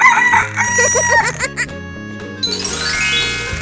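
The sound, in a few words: chicken crowing in a 3D animal video game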